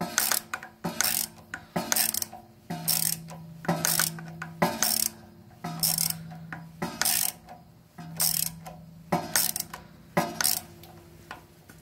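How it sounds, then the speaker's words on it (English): Hand ratchet tightening the top bolts on a Swisher 2760B zero turn mower, a steady run of close, crisp clicking bursts repeating every second or so with short pauses between strokes. "I'll probably go ahead and tighten up the other side top bolt and crisscross them"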